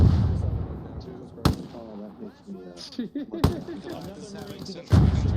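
Mortar explosions in a military video game, with loud booming blasts at a steady spacing mixed with excited voices talking between the impacts.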